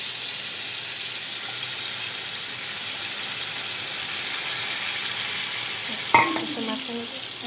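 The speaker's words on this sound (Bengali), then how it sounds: "আমি গ্যাসটা কমিয়ে টমেটোগুলো এবার দিয়ে দিচ্ছি, আস্তে আস্তে গলে যাবে।" Tomatoes frying in a pan over a lowered gas flame make a constant, moderate sizzle, with a single sharp utensil knock against the pan near the end and a brief clatter after it.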